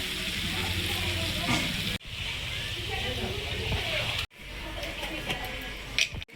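Mutton curry frying in a pan after browning, with water poured in: a steady loud sizzle runs throughout with sloshing and stirring, broken by two brief cuts, while a voice talks over it.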